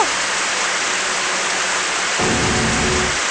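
Steady rain hisses without a break in a horror-mystery video game scene, a dense, even wash of falling water filling the whole moment with no voices over it.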